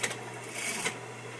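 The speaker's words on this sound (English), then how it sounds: "Now I'm sewing it." A sewing machine stitching a 3/8-inch seam allowance: a short, faint mechanical whir with a steady low hum, running close for under a second before easing off.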